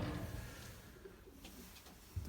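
A Belgian racing pigeon coos softly and low, close by, over a steady background hiss with a faint knock near the end.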